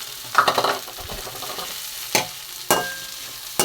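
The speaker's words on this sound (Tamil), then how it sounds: "அதை வந்து நம்ம நெய்யிலே நல்லா வதக்கிடுவோம்" Red poha and sago sizzle gently in ghee in a pan, broken by a few distinct scraping stirs of a spoon, close and fairly loud against a quiet background.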